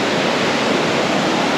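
A hidden waterfall in the Southern Forests of Western Australia, heard from near its base, pours in a loud, steady roar of rushing water, unbroken and without voices.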